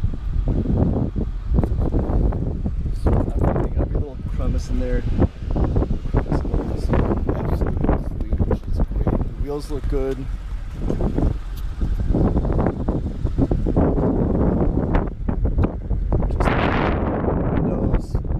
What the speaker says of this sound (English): Yeah, it's kinda windy out here,